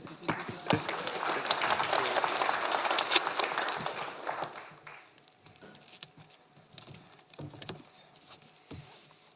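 Audience applause at a federal all-candidates forum for Columbia Kootenay Southern Rockies, a dense burst of clapping for about five seconds that then thins to scattered claps and room noise.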